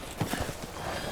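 Horse hooves clip-clopping in Resident Evil Village, a few quick hoofbeats over a steady wash of game ambience, moderately close and fairly soft.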